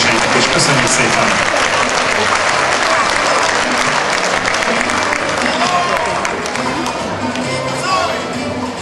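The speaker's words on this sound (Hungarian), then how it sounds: "egy nagy tapsot kérnék szépen ennek a kategória győzteseinek is" Sustained audience applause for the category winners at the ISIS Dance Open junior standard final in Szombathely, a dense, even wash of clapping that fills the whole stretch without a break.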